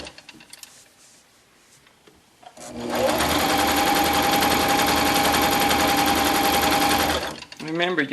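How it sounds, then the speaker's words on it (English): A two-needle cover stitch sewing machine stitches fabric in one loud, fast, steady run of rapid mechanical clatter lasting several seconds, with quieter handling noises before it starts and after it stops. "Now there's 2 needles in this machine."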